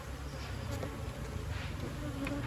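Honeybees swarm and buzz during a hive colony transfer, where frames of comb are moved into a modern hive; the dense, steady drone is loud and close, with no talk.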